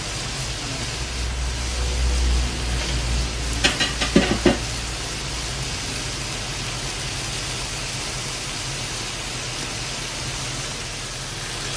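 Steady, hissing sizzle of chicken frying in a pan for Filipino chicken afritada, with a few brief clatters of stirring early on and no talking.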